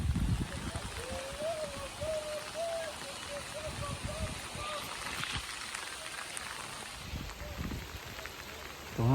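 Heavy rain pours steadily at Don Hill Station in Gujarat, a continuous dense hiss of drops with a faint whistling tone in the background.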